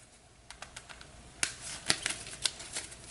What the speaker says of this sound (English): give that one more shuffle